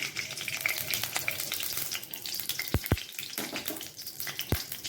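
Oil hisses and sizzles steadily in a hot kadai while cooking a Bengali vegetarian dish, with a few sharp crackling pops standing out near the middle and end.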